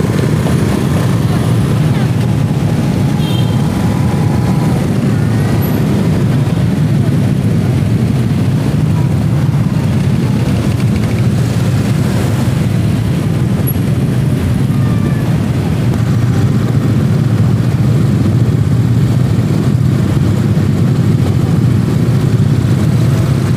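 Night traffic jam during Takbiran eve of Eid al-Fitri in Tanjung Uban, Bintan: a loud, dense, unbroken drone of idling car and motorcycle engines close by, steady for the whole stretch with faint horns and no clear speech.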